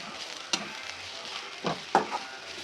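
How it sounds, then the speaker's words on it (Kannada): Mint leaves frying over a low flame for mutton biryani give a soft, steady sizzle throughout, broken by a few brief stirring clicks and scrapes near the end. "ಎರಡು ನಿಮಿಷ ನಾವು ಲೋ ಫ್ಲೇಮಲ್ಲಿ ಇದು ಮಾಡಿದ್ರೆ ಸಾಕು ಪುದೀನ ಎಲ್ಲ ಬೇಗ ಬೆಂದೋಗ್ಬಿಡುತ್ತೆ"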